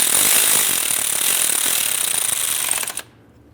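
Banjo bolt on a brake hose is snugged onto the caliper of a 2005-2010 Dodge Dakota with a fast, buzzing ratchet, likely powered. The whir is loud and close, then cuts off abruptly near the end.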